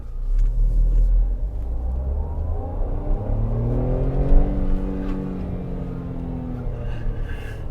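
A Tata Punch compact SUV with an 86 PS engine holds third gear while climbing an offroad slope, giving a steady, loud engine drone and rumble with a rising labored tone as it pulls uphill, with no voices.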